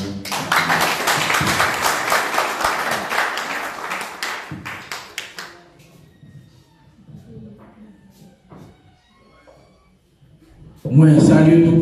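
An audience claps at a gathering with a police brigade commander, a loud run of rhythmic applause for about five seconds that thins to quiet before a speaker's voice comes in.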